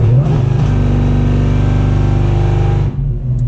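A manual Dodge Hellcat's engine revs and holds locked at a steady high pitch under launch control, a loud close drone for nearly three seconds, then drops back to a lumpy idle.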